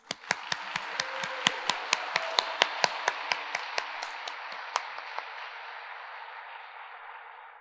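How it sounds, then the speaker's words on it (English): An audience at a literary awards ceremony claps for the nominees: distinct, fairly quick claps in a steady patter that thin out and fade over several seconds in a reverberant hall. "Round of applause for our nominees."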